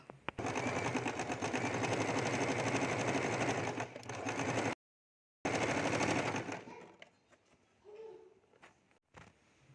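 A sewing machine stitches elastic onto old denim jeans in a loud, steady, rapid run of several seconds. After a brief break, a shorter burst follows and then tails off into quieter handling sounds.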